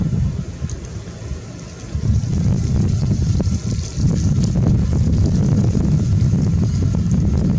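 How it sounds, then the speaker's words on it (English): Strong wind buffets an outdoor microphone in loud, continuous low rumbling gusts that swell after a couple of seconds and stay heavy to the end, with no voices present. "I just hate this wind blowing."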